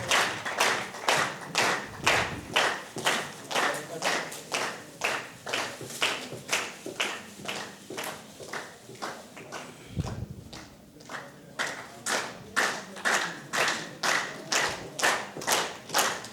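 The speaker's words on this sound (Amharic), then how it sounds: "አጨብጭቡ፣ እልል በልላቸው።" A crowd at a church gathering claps in a steady rhythmic beat, sharp unison claps repeating about twice per second, loud and close, with brief pauses and soft thuds between.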